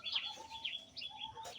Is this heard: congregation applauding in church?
no